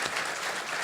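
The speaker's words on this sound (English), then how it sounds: "That deserves a round of applause right there." Applause from a convention panel audience honoring a sheriff, a dense, steady wash of hand claps filling the moment without pause.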